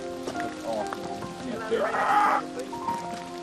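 Heavy rain falls in a towering redwood forest, a steady pattering hiss under tonal sounds and murmuring voices nearby.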